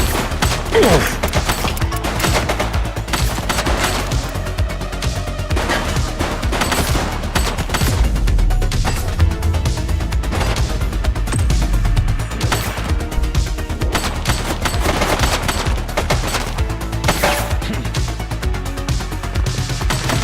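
Continuous, dense gunfire from a suspect in The Precinct police video game, with rapid bursts and crashes that overlap almost nonstop at a loud, steady level for the whole stretch.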